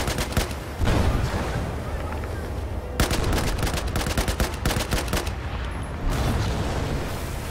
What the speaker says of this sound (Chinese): 再来一个华丽大爆炸。